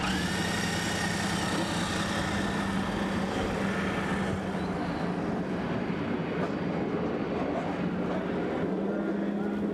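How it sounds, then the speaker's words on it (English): IndyCar race car engines fire up together at Pikes Peak International Raceway in 1999, a loud, sustained droning roar that holds steady throughout, with a crowd and an announcer's voice underneath. "The engine's now coming to life."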